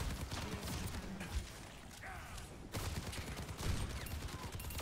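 Sniper and weapon fire in the Overwatch 2 game from Widowmaker, with dense repeated shots and impacts throughout, dipping briefly mid-clip before resuming loud and busy.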